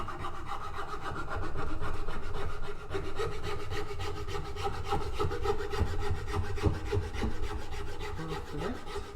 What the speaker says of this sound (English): I'm going to go in with the rasp and just take that down.